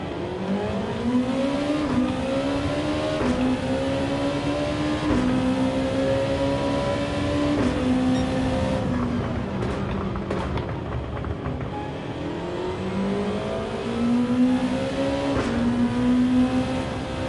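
A race car engine in the Gran Turismo 7 video game drones and revs steadily, pitch rising and dropping through gear changes, loud and continuous with no talk.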